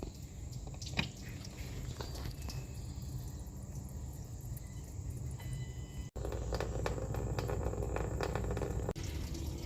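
Coolant drains from the drain port of a 2014 Jeep Grand Cherokee 5.7 Hemi, a steady, close trickling hiss of liquid that briefly cuts out partway and resumes slightly louder.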